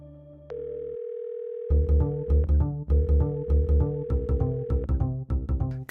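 A call-in radio show telephone line sounds a steady, loud dial tone, followed by a rhythmic sequence of stacked electronic tones that play on without speech.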